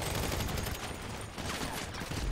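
Sustained gunfire in GTA 5 Online during the Doomsday Heist, a steady crackling barrage of shots at moderate loudness without anyone speaking.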